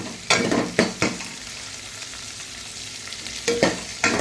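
Cauliflower sautéing with curry leaves in a pan, a steady soft sizzle broken by a handful of sharp scraping stirs near the start and end.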